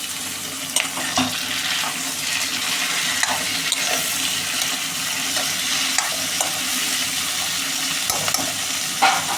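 Onions and tomatoes fry in a pan with a continuous sizzling hiss, broken by repeated scraping and tapping as a spoon stirs them, close and steady.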